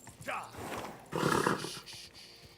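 Horse hooves in Kingdom Come: Deliverance II clop briefly under a voice, with a louder burst of trotting or scuffling partway through, near and moderately loud.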